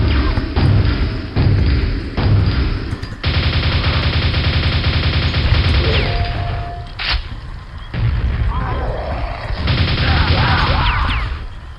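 Spike shooter traps in Quake firing at an ogre inside a castle, repeated mechanical thuds and rapid bursts of shots with booming impacts, loud and close.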